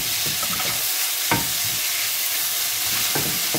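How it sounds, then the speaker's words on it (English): Meat fries in a pan with a constant close, bright sizzle, broken by a few soft scraping stirs of a utensil. "So I'll just leave it to fry just for about 5 or 7 minutes."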